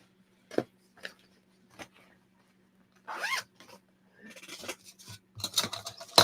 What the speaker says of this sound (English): My zipper pouch.